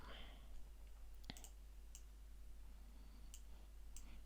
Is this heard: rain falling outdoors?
no